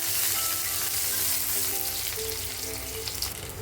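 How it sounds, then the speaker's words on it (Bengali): Chopped onion frying in oil in a wok, with a loud, continuous close-up sizzle and occasional stirring scrapes, and no voices. "প্রথমে দেবো একটু পেঁয়াজ কুচনো, পেঁয়াজটা হালকা ব্রাউন করব"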